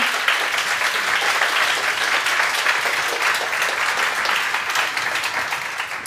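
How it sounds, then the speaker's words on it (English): Audience at a women in tech night event gives a round of applause, dense steady clapping that holds for about six seconds and tapers slightly at the end, with no talk. "So big applause again."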